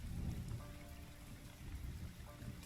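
Steady rain with low rumbling thunder in the gothic horror deck-building game The Foretold: Exordium, a faint continuous patter over a deep rolling bed, with no voices.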